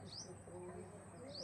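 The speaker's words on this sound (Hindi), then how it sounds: "सूरज ढलने को तैयार और हरियाली और पक्षियों की चहचहाट है यहाँ पे।" Birds chirp at sunset amid greenery, with quick high tweets at the start and end over a steady outdoor hum while a voice talks.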